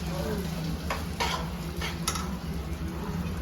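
Fish curry being stirred in a pan, with a steady sizzle and a few soft scraping strokes of a spoon against the pan.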